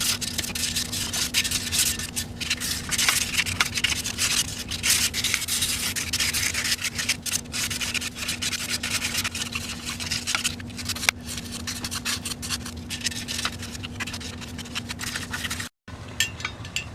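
Sandpaper of 180 grit rubs back and forth on cast motorcycle wheels in quick scratchy strokes, heard close and alone over a faint steady hum.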